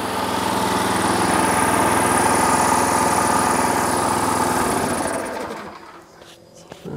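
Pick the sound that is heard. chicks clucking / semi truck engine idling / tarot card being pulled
semi truck engine idling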